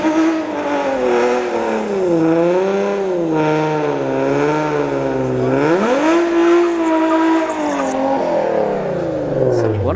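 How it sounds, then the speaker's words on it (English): A Nissan 370Z drag car at a drag strip revs hard, its engine note climbing and falling in repeated sweeps, loud and close, then surging again toward the end with no voices over it. "All right, we got a 370Z."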